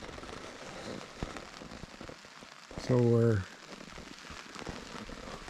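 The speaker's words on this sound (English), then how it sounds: "So it's about 8 o'clock and the rain started." Rain patters on a camping tent fly during a canoe trip, a soft steady drumming of drops heard close overhead while someone briefly speaks and a short tonal hum cuts in midway.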